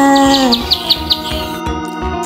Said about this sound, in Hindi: चुन चुन करती आई चिड़िया